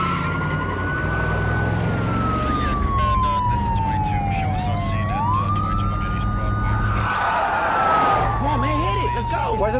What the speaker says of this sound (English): Can I hit the siren again?